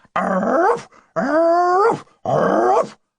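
A human voice imitates a dog growling in three drawn-out, throaty bursts with short pauses between, loud and close.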